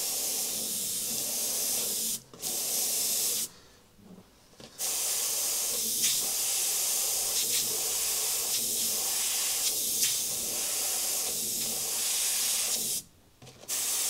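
An airbrush sprays paint through an art tool template while airbrushing a clown, giving a steady, close hiss in long bursts broken by several brief pauses.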